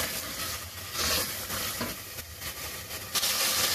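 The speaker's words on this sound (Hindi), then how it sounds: "इसको अच्छे तरीके से भून लूँगी।" Masala with two tablespoons of yogurt fries in a pan, a dense steady hiss and sizzle with a few louder surges, heard close and without talk.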